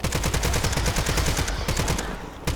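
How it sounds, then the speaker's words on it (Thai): Rapid, continuous automatic gunfire from Call of Duty zombie mode, dense bursts with brief pauses, loud and close with no voices. "เสียงปืนดีอยู่"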